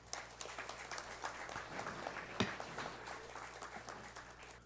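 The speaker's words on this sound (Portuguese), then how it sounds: "Uma salva de palmas à empresa." Applause in a hall for TIM S.A. after it wins lot F7 at the ANATEL 5G spectrum auction in Brazil, a steady patter of many hands that is moderately faint, with a low steady hum beneath it.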